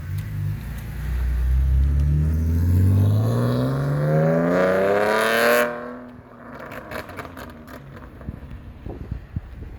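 A tuned BMW E46 roars past outside, its exhaust climbing through revving gear pulls, loud and close, then it fades off, leaving scattered faint clicks and ambient noise.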